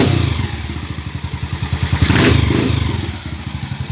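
Motorcycle engine idling close by after a timing gear repair, a steady rapid chugging pulse with a brief rev swelling midway, then settling back to idle, loud with no talk.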